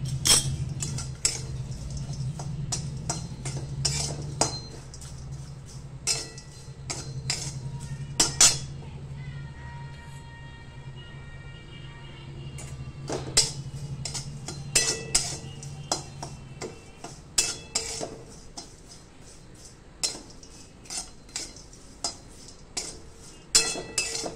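Whole dry spices for a Satara-style chilli masala being roasted in a pan, with repeated clinks and scrapes of a spoon against metal, a steady background hum, and a cat meowing now and then.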